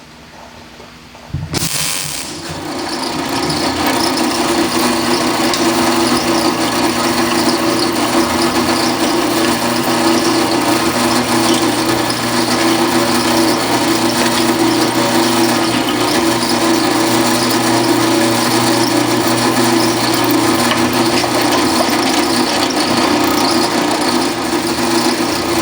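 A power tool runs nonstop while holes are drilled for brackets in a rat rod shop build, starting with a sharp onset and then a loud, steady, close whine with grinding texture.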